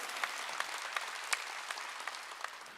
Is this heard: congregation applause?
yes